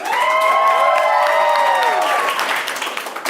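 An improv show audience breaks into applause and cheering, with high whoops and shouts riding over steady clapping, loud and close.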